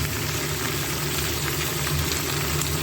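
Onions frying in a pan before spinach goes in, a continuous dense sizzle and crackle that stays steady and fairly loud throughout, with no voices.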